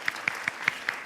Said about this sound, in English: If you just give yourselves a little round of applause